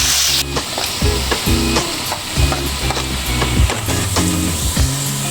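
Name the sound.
potatoes frying in hot oil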